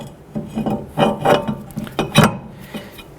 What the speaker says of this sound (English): go ahead and get your brake rotor installed